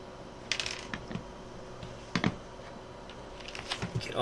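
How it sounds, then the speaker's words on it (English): A cat walks across a computer keyboard, its paws pressing keys in irregular clusters of clattering clicks, some quick bursts and pauses, close and moderately loud. "Get off the keyboard, cat."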